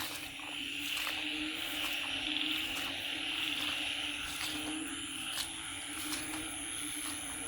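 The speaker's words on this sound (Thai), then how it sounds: "มาฟังบรรยากาศ เสียงกบเสียงเขียดนะครับ" Frogs call at night in a rice field in Isan, a steady, dense chorus with regular clicking pulses. It stays fairly faint and even throughout, with no voices.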